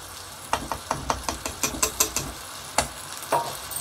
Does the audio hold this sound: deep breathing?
no